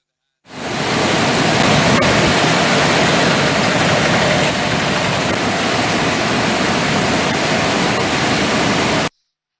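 Water gushes through reservoir sluice gates opened a foot to two feet wide, releasing into the Mahaweli River. It makes a loud, steady, broadband roar that holds unbroken for about nine seconds, with no voices.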